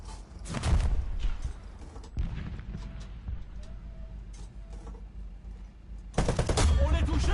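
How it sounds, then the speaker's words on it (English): Gunfire in War Thunder, a vehicle combat game: a burst of shots near the start over steady engine and mechanical rumble, then another loud, dense cluster of fire near the end. "who's shooting at me now?"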